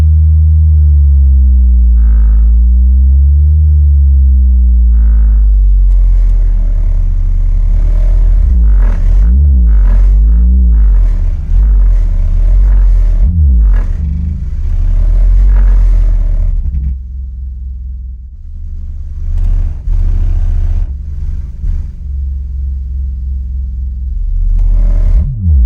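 A single SAVARD 6.5-inch Hi-Q subwoofer in a full-size Sequoia SUV with the windows up plays a loud, deep bass test tone. Booming low rumbles rise and sweep and pulse throughout, with no one talking.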